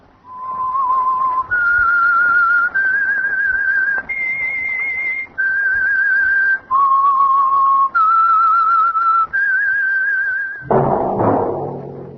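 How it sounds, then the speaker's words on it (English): The signature whistle of the 1947 radio drama The Whistler: a clear whistled melody of steady held notes stepping up and down, loud and close, ending with a burst of noisy rumble. "That whistle is your signal"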